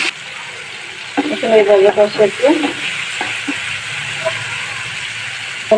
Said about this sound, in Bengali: পেঁয়াজ এরকম করে কাঁচামরিচ দিয়ে দিলাম